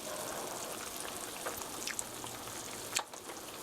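Mapo tofu sauce simmering in a pot, a soft continuous bubbling and crackle with scattered pops and one louder splutter near the end.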